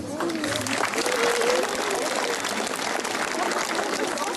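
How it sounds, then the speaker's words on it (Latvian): Steady applause from an audience at a school's first-day-of-term ceremony on 1 September, fairly close and continuous, with a faint voice or tone threading through it. "Tas ir aplausu vērts"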